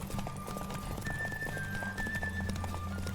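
A horse gallops in a race in The Witcher 3 with rapid, even hoofbeats, and a neigh rises partway through. The pounding is clear but moderate in level, with no talk over it.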